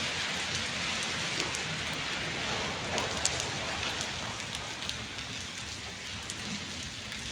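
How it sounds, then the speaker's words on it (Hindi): Rain pours down in Koti Chail, Himachal Pradesh, a dense, even hiss of drops on surfaces with occasional louder splats, steady throughout and free of talk. "कोटी चैल में भी बारिश हो रही है।"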